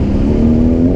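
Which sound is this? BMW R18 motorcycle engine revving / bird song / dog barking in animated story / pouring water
BMW R18 motorcycle engine revving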